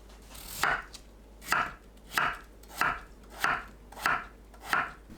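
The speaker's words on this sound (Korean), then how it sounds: "감자를 채 썰어주세요." Knife julienning potatoes on a cutting board: six evenly spaced, crisp chops roughly every 0.6 seconds, close and moderately loud, with no talking.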